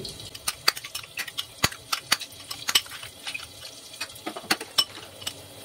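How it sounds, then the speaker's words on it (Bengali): About three spoons of yogurt are beaten in a bowl, with quick irregular clinks and wet slaps from the whisk, close and uneven, with no voices. "দইটাকে আমি ভালোভাবে ফেটিয়ে নিচ্ছি"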